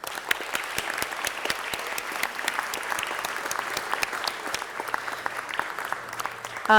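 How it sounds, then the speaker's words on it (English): Audience members at a city council meeting clap for honored students, a thinner applause of distinct, sharp claps from a modest crowd, steady throughout before a voice cuts in at the very end. "Let's give them a great big round of applause."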